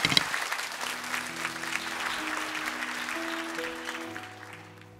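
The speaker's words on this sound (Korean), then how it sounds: "우리 큰 박수로 우리 자매를 좀 초대해 주시면 감사하겠습니다" Church congregation applauding at a Sunday service, a full, sustained round of clapping from a large crowd while soft organ or keyboard tones enter underneath and the applause gradually fades toward the end.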